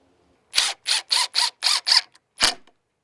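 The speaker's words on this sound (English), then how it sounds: "Now I'm going to attach the pickets using 1 5/8 inch screws." A cordless screwdriver drives 1 5/8 inch screws into deck skirting pickets, six short whirring bursts in quick succession followed by one more after a pause, loud and close.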